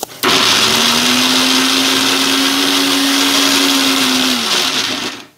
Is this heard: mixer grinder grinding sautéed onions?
yes